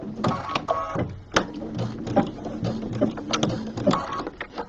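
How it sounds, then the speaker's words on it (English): Sewing machine stitching binding onto a small project bag, a steady rapid mechanical whir with rhythmic needle clatter, close and fairly loud, pausing briefly between runs. "And then I'm going to stitch the rest of the binding on."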